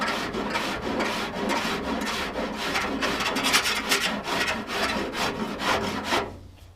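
Body filler on a 1969 Chevy van is being filed by hand. Steady rhythmic rasping strokes come close and loud, one after another, then cut off at the end.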